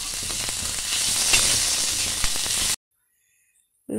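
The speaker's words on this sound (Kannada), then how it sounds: "ನಾನು ಎಣ್ಣೆ ಹಾಕ್ಕೊಂಡು ಹುರ್ಕೊತಾ ಇದ್ದೀನಿ." Oil sizzles and crackles steadily in a pan as a village-style chicken sambar masala is fried, with stirring taps, until the sound cuts off abruptly into silence near the end.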